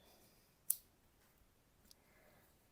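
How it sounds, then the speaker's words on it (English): Scissors snip crochet yarn while someone makes baby booties: a single sharp, close cut, then a fainter click a moment later against quiet room tone. "get our scissors"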